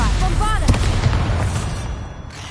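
A Bombarda explosion spell is cast in Hogwarts Legacy, giving one sharp, booming burst in the middle of loud in-game action, with a voice speaking over parts of it.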